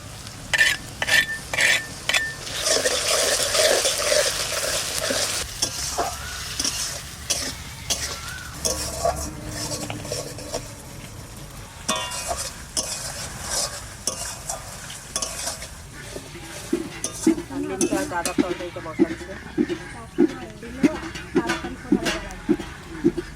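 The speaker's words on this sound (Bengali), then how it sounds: "এবার দিয়ে দেবো লঙ্কা আদা রসুন পেঁয়াজ এটা কাঁচা লঙ্কা" Green chilli, ginger, garlic and onion frying in a pan and being stirred with a metal spoon, giving scraping clatter and a sizzling hiss while a person talks at times and coughs.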